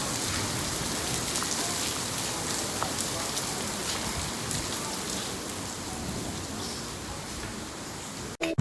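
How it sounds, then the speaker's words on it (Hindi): Heavy rain pours steadily in Madinah, a dense, continuous hiss of drops striking surfaces nearby, with a brief knock at the very end. "तेज बारिश हो रही है।"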